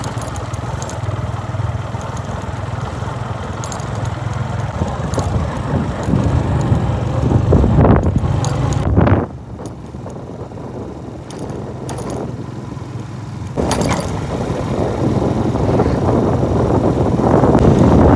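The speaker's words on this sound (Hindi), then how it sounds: "हम सवार हो गए अपनी बाइक पे और चलते हैं इस जंगल के रास्ते" A motorbike engine drones steadily on a forest road in bright sun, wind buffeting the microphone, dipping briefly midway before the ride picks up again.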